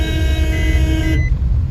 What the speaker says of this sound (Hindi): हॉर्न में भी पानी घुस गया है।